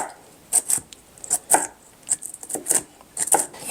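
Knife chopping vegetables on a cutting board while cooking a Mediterranean orzo with tempeh, a run of sharp close taps in irregular bursts with brief pauses between.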